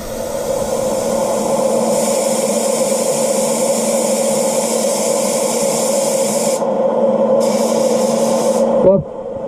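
Steady loud hissing of a spray gun spraying wet-on-wet sealer onto a Chevelle SS, continuous and close, cutting out briefly near the end before resuming.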